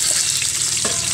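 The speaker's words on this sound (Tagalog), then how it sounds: "So sa video nito, magpe-prito po tayo ng isda." Fish, an aloy, frying in hot oil in a home kitchen, giving a steady, dense crackling sizzle throughout with a brief louder spatter near the end.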